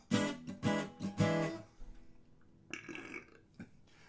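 Three loud, voiced burps in quick succession from a person, followed by softer throaty sounds and breathy noises, close and indoors.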